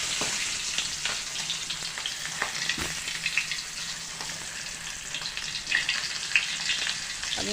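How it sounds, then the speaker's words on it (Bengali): Pangas fish pieces rubbed with salt and turmeric fry in oil in a wok, giving a steady close sizzle with scattered crackles and pops throughout. "আমি হালকা ভাবে মাছগুলো ভেজে নিব আগে"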